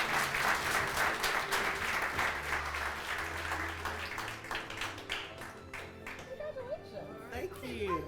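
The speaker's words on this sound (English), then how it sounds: "round of applause" Audience applause at a neighborhood awards celebration in Roanoke, a dense round of clapping that stays strong and steady, then thins slightly toward the end as some voices come through.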